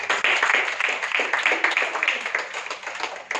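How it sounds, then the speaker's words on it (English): Audience applause during a company presentation, a steady broadband patter of many hands clapping close by, with talk mixed in. "Okay, applause."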